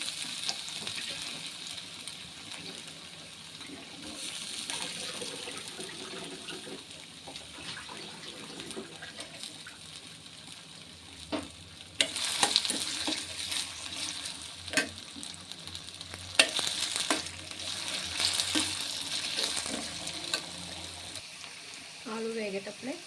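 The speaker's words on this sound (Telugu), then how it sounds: "ఇప్పుడు తాలింపు గింజలు వేగాయి కదండి, ఆలు వేసేసుకున్నాం." Potatoes frying in oil with tempering seeds in an Indian kitchen, a steady soft sizzle with occasional stirring scrapes and brief louder crackles, under intermittent speech.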